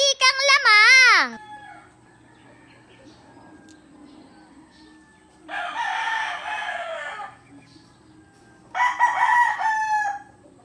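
A battle cock rooster gives a loud, close crow at the start, followed by two bursts of noisy clucking and squawking, with quiet background in between.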